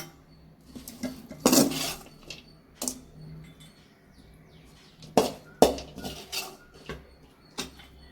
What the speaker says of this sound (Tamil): நம்ம இதை வேற ஒரு பாத்திரத்தில் எடுத்து வச்சிருவோம்மா.